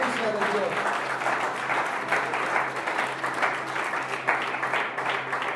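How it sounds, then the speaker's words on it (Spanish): Church congregation giving a strong round of applause, loud continuous clapping with rhythmic surges and crowd voices mixed in, close and full throughout. "Denle un aplauso fuerte a la presencia de"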